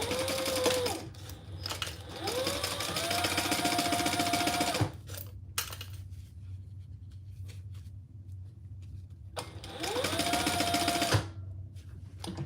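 A sewing machine runs in several long stitching bursts with rising and falling motor whine, separated by a quieter pause with small handling clicks, all close and alone.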